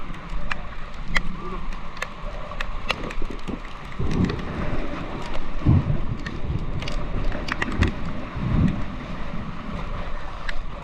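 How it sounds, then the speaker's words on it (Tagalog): Heavy rain pours steadily near San Fabian Beach, Pangasinan, while thunder rumbles low in bursts; voices are faintly audible beneath the downpour. "Ang ulan."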